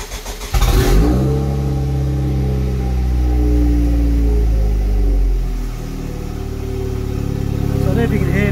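An Ariel Atom 4 engine starting in neutral, catching with a sharp burst, then revving and settling into a loud, steady, droning run up close that dips briefly before rising again.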